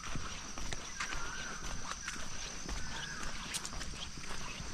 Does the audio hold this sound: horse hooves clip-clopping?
yes